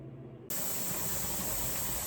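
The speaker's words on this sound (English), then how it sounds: "this little pipe in the back has a solid stream of steam." Steam hisses steadily from the vent pipe of a pressure canner during dry canning of potatoes, starting abruptly after a brief quiet moment and then holding as a loud, continuous broadband rush.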